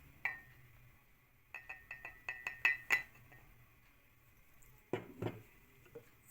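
Dry ingredients such as flour, sugar and cocoa powder go into a mug for a microwave brownie, with light ceramic clinks and spoon taps in short clusters, then a couple of soft thuds, all quiet and close with no talking.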